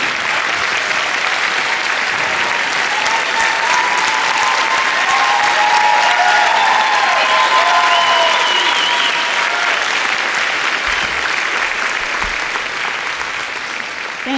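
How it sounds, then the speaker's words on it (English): An audience at a scholarship awards ceremony applauding standing donors, a full, sustained wash of clapping from many hands filling the room evenly for the whole stretch. "could you please stand and let us applaud you and thank you"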